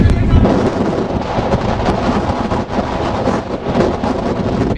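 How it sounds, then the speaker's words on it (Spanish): Strong wind batters the microphone on a beach at Tampico, a loud, gusty rumble and roar that surges and dips without pause, close and dominant. "Viene el aire muy fuerte."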